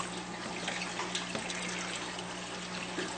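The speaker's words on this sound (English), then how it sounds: "So the water comes up the nutrient tank, flows into those drip irrigation lines, starting some seeds right there, flows down the pipes" Water pumped up from a nutrient tank runs steadily through the pipes of an NFT hydroponic system, making a continuous close trickle and rush that holds at an even level throughout.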